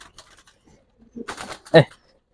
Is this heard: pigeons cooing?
yes